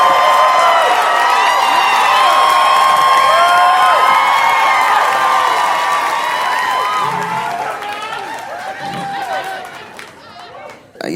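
A comedy club crowd cheers and claps loudly for a stand-up comedian, whoops and chatter rising over dense applause that gradually thins and fades toward the end.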